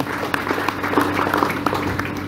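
An audience claps together at a religious gathering, a steady wash of applause with a murmur of voices underneath.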